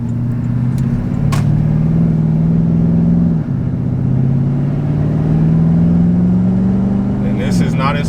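Porsche Cayenne Turbo with its muffler deleted, not in sport mode, giving a loud, continuous exhaust drone that rises and dips slightly in pitch, with someone talking over it.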